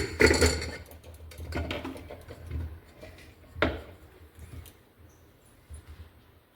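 Washed potatoes tumbling into a pressure cooker for a Bengali aloo dum, heard as a few light knocks and clatters of potato against metal, nearby and quiet, with short gaps between.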